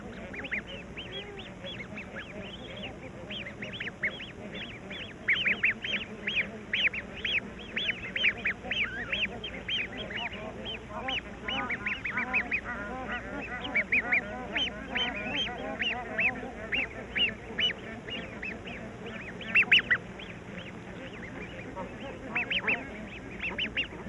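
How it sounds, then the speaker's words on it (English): Bar-headed geese and newly hatched goose chicks call at the edge of a Ladakh village, a dense, continuous chorus of honks and quacking cries with bursts of louder calls, heard close and alone. "The bar-headed geese chicks have just begun to hatch."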